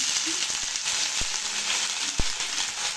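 Bay leaf and ginger fry in hot oil for khichuri, giving a steady, close sizzle with a couple of sharp pops breaking through the continuous hiss.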